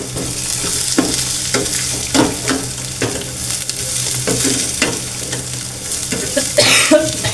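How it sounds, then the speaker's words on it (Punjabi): Onions frying in a pan for a dal tempering sizzle steadily while a utensil scrapes and stirs in repeated strokes, close and fairly loud. "ਹੁਣ ਆਪਾਂ ਪਾ ਲਾਂਗੇ ਜੀ ਪਿਆਜ਼ ਤੇ ਇਹਨਾਂ ਨੂੰ ਭੁੰਨ ਲਵਾਂਗੇ ਚੰਗੀ ਤਰ੍ਹਾਂ"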